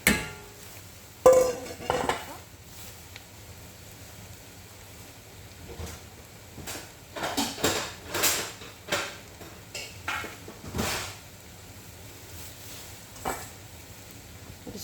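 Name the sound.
stirring ground fish powder into fried onions in a pan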